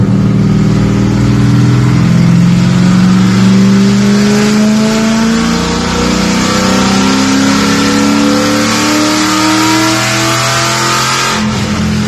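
A car engine revs through smooth, progressive pulls during engine break-in, holding a loud, steady drone with rising and falling pitch that stays close and continuous for the whole stretch.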